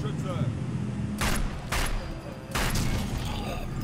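Heavy shots in Sniper Elite 4, a World War II sniper game, land as three loud, spaced booming cracks over a steady rumbling background.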